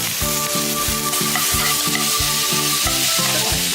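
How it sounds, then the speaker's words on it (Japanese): Pork pieces sizzle and fry in a pot as the base for tonjiru, Japanese pork miso soup, browning over high heat. A loud, close, continuous crackle with a steady repeating rhythm of stirring and scraping, and no voices. "お肉を炒めて、お肉に少し焦げ目をつけて、この香ばしさを出していく"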